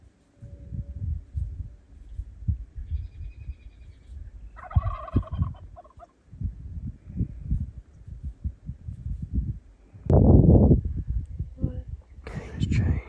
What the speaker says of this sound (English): there's 2 gobblers working down the road